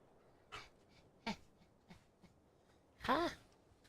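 A pet dog gives a short, high, wavering whimper near the end, after a few soft sniffs and snuffles, heard close by.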